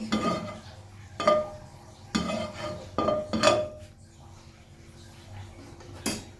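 Aromatic seasoning being stir-fried in a pan for a braised duck and fresh bamboo shoot dish, heard as a few sharp, irregular clanks and scrapes of a utensil against the pan over a quiet, faintly crackling background.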